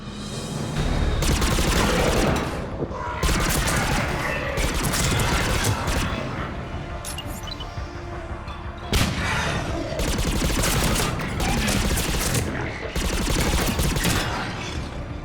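Loud, sustained gunfire in the Mass Effect 3 video game, in the Thessia mission, comes as dense bursts of rapid shots with mechanical clanks between them. Volleys fill nearly the whole stretch with only brief lulls.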